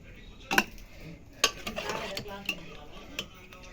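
Cooked chicken is moved into a metal bowl with a few sharp metallic clinks and scrapes of a spoon against the bowl, soft and close, over a quiet kitchen background.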